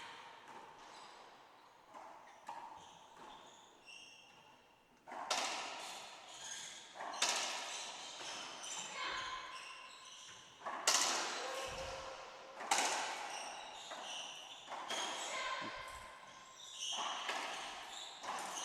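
Women's doubles racquetball final at an indoor club, a long rally of sharp ball strikes off racquets and walls in quick irregular bursts, echoing in the court with faint crowd murmur behind.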